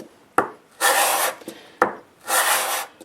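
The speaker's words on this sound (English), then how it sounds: "you can see just a few swipes with 180 grit sandpaper" Two long rasping swipes of 180 grit sandpaper across a flat wood surface, each one after a sharp tap as the block is set down, close and loud with quiet gaps between.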